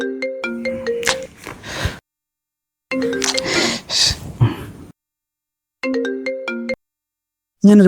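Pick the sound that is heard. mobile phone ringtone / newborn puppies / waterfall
mobile phone ringtone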